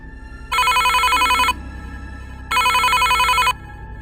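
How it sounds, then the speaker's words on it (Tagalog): A cellphone ringing with two loud, near electronic ring bursts of about a second each, separated by a one-second gap, over a low background hum. "Biglang tumunog ang binigay sa akin na cellphone."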